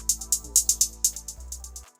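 Hi-hats with a delay effect tick in a dark hard-rock beat, bright repeated hits with echoing tails, sitting over a low sustained bass and keys that drop out near the end.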